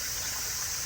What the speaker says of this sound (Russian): А тут речка течет. Смотрите, ручеек.